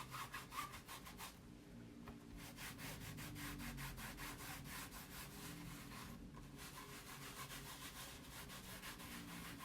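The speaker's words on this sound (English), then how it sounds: "I'm not going to rub too hard around that paste because it may not be really dried and cured on there" Steady, continuous rubbing across a watercolor canvas surface coated with paste, a close, even scraping texture that barely pauses for nearly ten seconds, with no talking.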